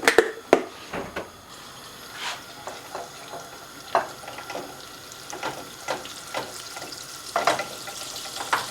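Steady frying sizzle of butter melting in a pan crackles, with occasional clinks and stirring sounds on top, close and moderately loud, no voices.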